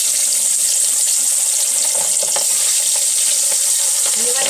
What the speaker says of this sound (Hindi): ये वाली मछली दोस्तों पटपट पटपट ज़्यादा करती है